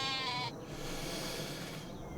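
A single sheep bleat from Farming Simulator 25 sounds clearly at the start, then fades into a quieter, steady farm-game ambience.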